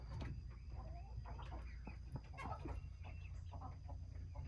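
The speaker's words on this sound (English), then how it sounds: "Let's go inside and see the broody hens." Several broody hens inside a backyard coop give soft, scattered clucks and murmurs, fairly quiet, over a steady low background hum.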